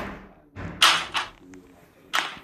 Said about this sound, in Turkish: Kapı kendiliğinden açıldı.